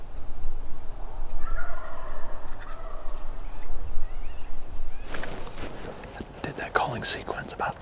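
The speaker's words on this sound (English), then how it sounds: "Those birds just gobbled." Wild turkey gobbling in big timber on public land, a faint distant call early on, with rustling and brush noise close by and soft whispering voices.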